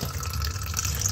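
Water pouring steadily onto Orbeez gel beads, a continuous close trickling splash with no talk over it.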